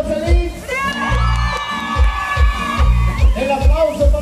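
A crowd at a village variety show in Oaxaca cheers and whoops for a participant over loud, pulsing music with a strong rhythmic bass beat; shouts rise above the music.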